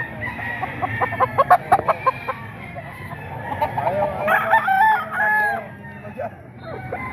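Boston Claret gamefowl roosters at a crowded market crow and cluck close by, with a burst of short sharp clucks followed by longer drawn-out crows over a low background murmur.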